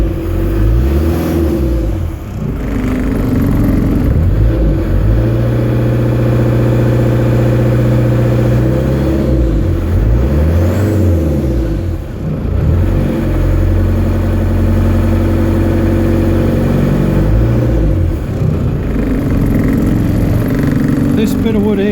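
A Land Rover 200 TDi diesel engine runs close by at raised revs, its throttle propped open with a wedge of wood, giving a steady loud clattering drone with slight periodic swells.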